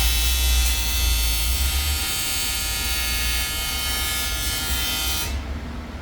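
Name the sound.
welding an intercooler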